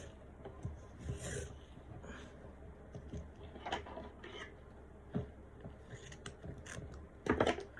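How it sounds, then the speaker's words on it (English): Fingers rub a sublimation tumbler wrap with a faint, dry rasping friction in soft, uneven strokes, ending in a louder scuff near the close. "And I'm just gonna wipe it or rub it."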